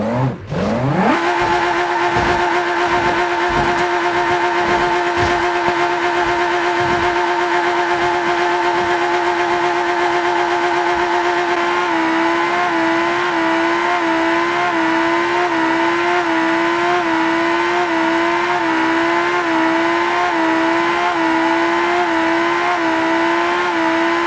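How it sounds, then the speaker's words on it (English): In BeamNG Drive, a car held in place by a rock and a chain does a burnout trying to pop its tires, its engine revving loudly and steadily at high pitch for a long stretch with a faint wavering whine, continuous and close. "we will try pop tires by doing Burnout"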